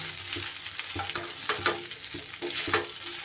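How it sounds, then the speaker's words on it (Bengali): Oil-free vegetarian tiffin snacks sautéed over a low-to-medium flame, a constant close sizzle broken by repeated scrapes and clacks of stirring, with no voices. "এইবার লো টু মিডিয়াম ফ্লেমে 3 থেকে 4 মিনিট এইভাবে টিফিনগুলো একটু নাড়িয়ে চাড়িয়ে বেশ সটে করে নিতে হবে।"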